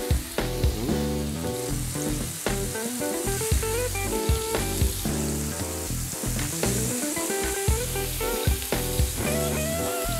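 Beef burger patties sizzle loudly in a hot pan, a steady close crackling fry with scattered pops and spatters running throughout.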